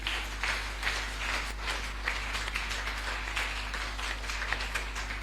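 A church congregation applauds and cheers, steady crowd clapping at moderate volume over a constant low hum, sustained for the whole stretch.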